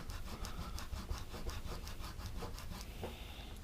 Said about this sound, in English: This is a standard plastic or polymer eraser.